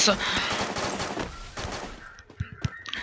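Rapid automatic gunfire from an AR assault rifle, the Zinger, in a competitive shooter game, a dense burst of shots followed by a few scattered single pops, with voices talking over the fire.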